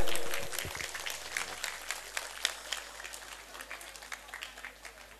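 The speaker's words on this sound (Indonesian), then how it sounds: "nyuwun tepuk tangan saking para rawuh sedaya" Scattered applause from an audience at a Javanese wayang shadow-puppet show with a child puppeteer, moderately loud at first and thinning into separate claps as it tapers off.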